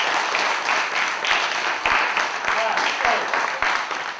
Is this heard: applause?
yes